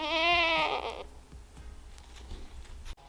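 Goats on a farm give one loud, wavering bleat up close, followed by quiet rustling and low background noise.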